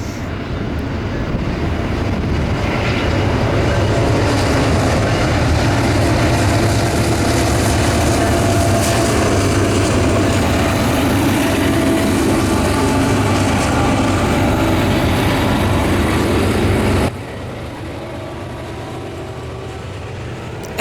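A Norfolk Southern freight train with GE locomotives, including a C44-9W and a C40-9, passes by with a loud continuous roar and rumble of engines and wheels, then cuts abruptly to a quieter hum near the end.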